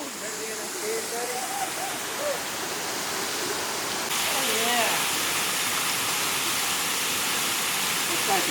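Waterfall and rocky creek on Henline Mountain, a steady close rushing roar of falling water, with faint voices under it.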